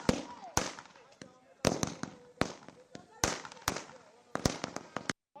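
Firecrackers burst in a quick, irregular string of sharp, loud cracks close by at a Diwali-like street celebration of Sunita Williams' return, while a voice talks between the bangs.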